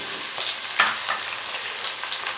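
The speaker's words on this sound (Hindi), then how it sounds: "ऑयल गर्म हो चुका है तो अब हम इसमें प्याज डाल देते हैं और प्याज के साथ ही हम लाल टमाटर शामिल करेंगे" Onion and tomato hit hot oil in a pan, giving a close, busy frying hiss with a sharp crackle early on and stirring scrapes, no voices.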